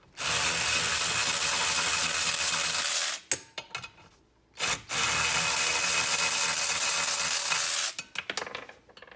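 An Aoben cordless ratchet spinning out four air intake bolts: loud, buzzing motor whir in long sustained runs, broken by short pauses and clicking, then resuming near and steady.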